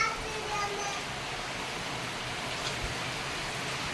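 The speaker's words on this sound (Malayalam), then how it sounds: "ഭയങ്കര മഴയുണ്ട്" Heavy rain pours down in an even, wide wash of noise. The downpour is continuous and moderately loud throughout.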